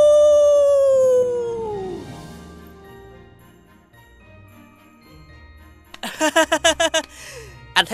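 A person imitates a wolf howl in an animated Vietnamese folk tale: one loud, long, falling howl, then near quiet, then a run of rhythmic jingling bursts.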